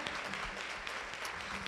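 Audience applauding the mayor and deputy mayor at a Latina empowerment community event, a steady wash of clapping hands with no voices heard.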